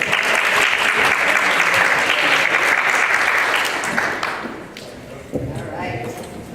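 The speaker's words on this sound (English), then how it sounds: "So please give her an applause." An audience at a conference applauds a speaker, with dense, loud clapping that holds for about four seconds and then thins out and fades. Only a few scattered claps remain at the end.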